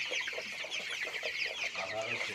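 Eighteen-day-old broiler chickens on a farm keep up a continuous chorus of close clucks and peeps, a busy chattering flock that fills the whole stretch.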